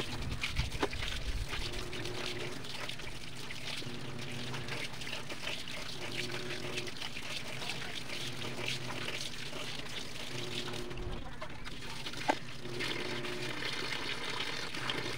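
Tap water pours in a steady, moderate trickle while fish, already scaled and with gills removed, is rinsed before being salted and fried; the flow continues without pause and no one speaks.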